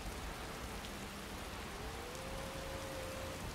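Steady, even rain in a video game hissing across the whole clip, a dense wash of drops with no pauses, moderately quiet and continuous.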